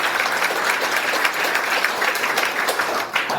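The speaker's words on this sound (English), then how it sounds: "Keep the round of applause going." Sustained applause from a crowd at a local candidates' forum put on by a historical society, dense and fairly loud clapping that holds steady before easing slightly near the end.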